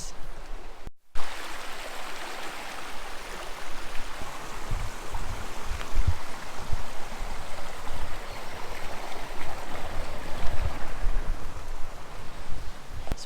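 A river flows along a hidden riverside path on the first day of spring, its steady, close rushing water filling the scene without a break and with no voices.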